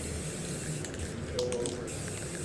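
Short, steady hissing spray laying down a thin coat during a wood stove install in a skoolie, heard close and continuous for a couple of seconds.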